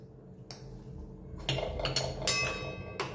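Pav bhaji is stirred in a pan after lemon juice and extra masala go in, a spoon scraping and clinking against the metal in several uneven strokes, close and fairly loud, with no speech.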